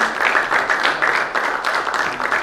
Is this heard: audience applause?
yes